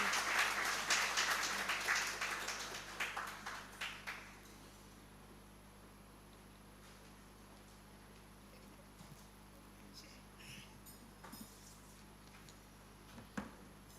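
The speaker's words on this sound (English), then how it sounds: "Please give him a round of applause, Mr. Haj Masoudi Obeid." Audience applause at an anniversary ceremony of Uganda's forex bureau and money remittance association fills the hall as a guest is welcomed to the podium. It starts as a loud burst of clapping, fades away within about four seconds, then leaves quiet room tone.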